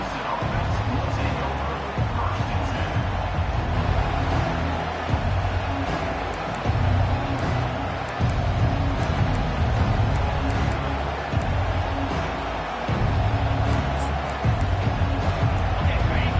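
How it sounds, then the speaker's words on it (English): A packed college football stadium crowd roars loudly and continuously, with the din swelling and easing in waves. "This crowd bringing an ear-splitting welcome to their visitors"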